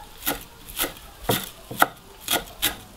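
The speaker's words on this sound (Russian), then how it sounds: "Мелко также измельчаем." A knife finely chops fresh parsley on a board in six sharp, evenly spaced knocks, close and crisp, with quiet gaps between strokes.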